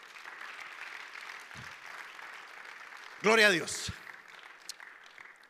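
A church congregation bursts into a short, loud round of hand clapping after a quiet stretch with someone speaking, the applause swelling briefly then fading back under his voice.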